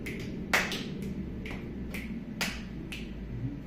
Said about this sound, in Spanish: Golpe, chasquido, aplauso, chasquido.